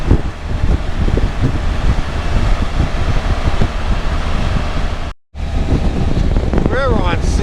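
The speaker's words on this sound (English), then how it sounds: "It's a little breezy today." Strong wind buffets the microphone during a motorcycle ride along a sandy, flat road in western Pennsylvania, a loud, continuous rushing roar with a brief dropout near the end; a voice is partly heard beneath it.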